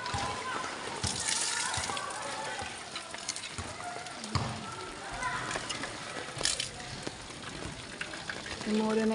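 Steady rushing and splashing of rainwater flowing through a water channel in the rain, with voices talking faintly underneath.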